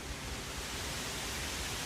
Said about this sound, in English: Apologize, it is a bit windy here, so apologize for the background noise.